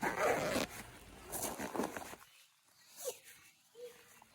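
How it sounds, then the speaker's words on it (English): A zipper on a camping bag is dragged in a few quick rasping pulls over the first two seconds, then gives way to quiet outdoor stillness with faint small noises. "Yeah, the zippers are really bad."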